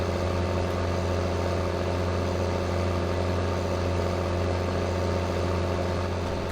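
In Farming Simulator 2015, a tractor engine runs at a steady pace, with a loud, continuous, low mechanical hum and a strong bass drone holding unchanged throughout and no one speaking.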